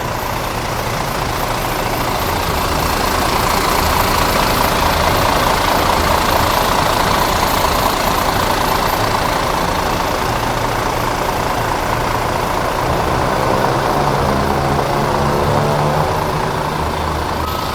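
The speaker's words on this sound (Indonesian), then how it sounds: "Ini mumpung kap mesinnya terbuka, kita coba dengerin ya suara mesinnya seperti apa." A high-mileage Pandawa 87 bus engine idles with its hood open, a loud, steady low rumble with a constant throbbing hum that holds evenly throughout.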